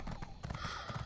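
Horse hooves clip-clopping in a quick rhythmic gait while riding through The Elder Scrolls Online, fairly quiet but steady, with overlapping thuds and clatter and no talking.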